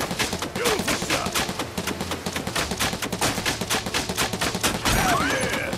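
Gunshots in the video game Final Fantasy VII Rebirth ring out as rapid, close volleys of sharp shots in quick succession, loud and dense, with brief game effects near the end.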